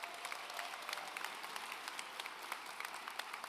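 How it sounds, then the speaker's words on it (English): A faint, distant crowd applauds continuously at a 2024 high school graduation ceremony, a steady wash of many hands with no talk over it. "Please give her a round of applause as well."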